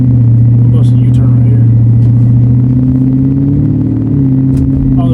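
A 1997 Lexus LS400 engine with all four mufflers cut off gives a loud, close, continuous low drone, its pitch shifting slightly partway through as it rumbles steadily throughout.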